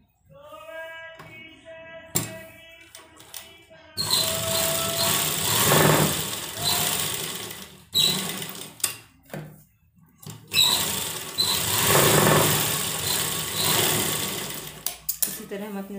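A sewing machine stitches the shoulder seam of a sleeveless blouse in several close, loud bursts of rapid mechanical whirring separated by brief pauses, with a short softer whir near the start.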